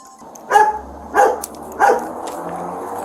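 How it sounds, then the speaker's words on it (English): A police dog shut inside a patrol car gives three loud, separate barks at an even pace, with a faint low rumble underneath. "If you move, there's a canine in my car."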